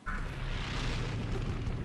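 Explosion in the mobile war shooter Brothers in Arms 3 played on a tablet, a loud sustained blast with deep low rumble and hiss lasting the whole moment, no talk over it.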